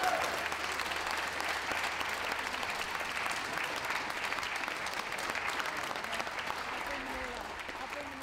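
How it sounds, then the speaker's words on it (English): Audience at a dog show in Bath breaks into sustained applause, a dense, steady wash of clapping that holds at an even level throughout and eases slightly near the end. "Give them all a round of applause."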